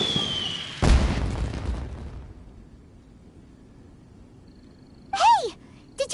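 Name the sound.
explosion, maybe fireworks, in Genshin Impact video game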